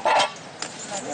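A duck honks loudly and close by in a short burst, followed by fainter quacking and rustle at an outdoor picnic on Réunion.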